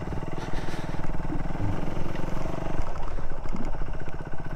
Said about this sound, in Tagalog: ako is papatakbuhin yung motor na dahan-dahan